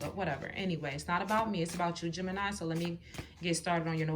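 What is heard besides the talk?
No everyday noise stands out behind the speech.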